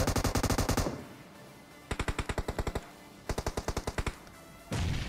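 Automatic gunfire rattles in a BGMI squad fight, with rapid bursts of about ten shots each, separated by short pauses, loud and close with no voices.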